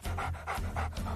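A dog in a pet shop video game pants in quick, rhythmic breaths, about five even pulses, close and fairly quiet, with no one talking.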